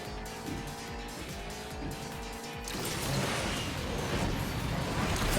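A racing car in the video game Asphalt Legends runs with a tonal engine whine, then breaks into a loud, broad tire squeal and skid that builds over the second half.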